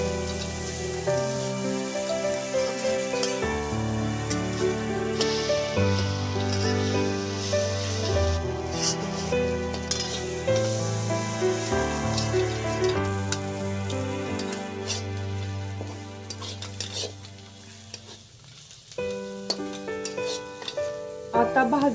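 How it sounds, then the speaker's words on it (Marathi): Onion frying in a little oil in a wok gives a steady sizzle heard under loud background music that plays throughout. "कढईत थोडेसे तेल टाकून कांदा भाजून घेऊयात।"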